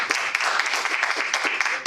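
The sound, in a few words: round of applause for participants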